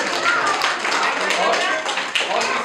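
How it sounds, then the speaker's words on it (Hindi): Schoolchildren at a middle school dental camp clap their hands together in a quick, irregular burst after a poem recitation, close and fairly loud, mixed with voices. "चलिए ताली मारते हैं"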